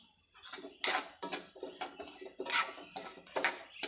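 Close metallic scraping and clinking of a spoon stirring grated coconut roasting in a pan, in quick irregular strokes.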